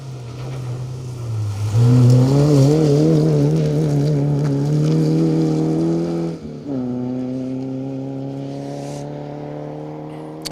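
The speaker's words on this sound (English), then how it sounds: "Next up then, the 205 GTI of Greg McCutcheon and Ian McCutcheon." Peugeot 205 GTI rally car on a gravel stage, its engine rising in a loud sustained rev, a brief lift as it shifts gear, then pulling hard again as it passes close by.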